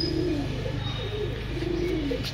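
Pakistani pigeons coo in a loft, several low, repeated throaty coos rolling on steadily against a constant background hum, with no voices.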